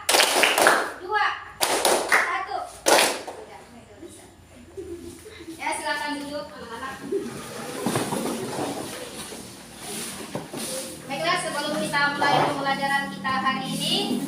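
A classroom of children claps out a rhythmic counting game in bursts of sharp, sharp claps, then goes quieter while a teacher's voice speaks over the room.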